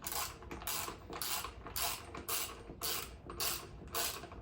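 Clamps tighten on a DIY woodworking glue-up jig, giving a faint, steady run of creaking, ratcheting mechanical clicks in a regular rhythm.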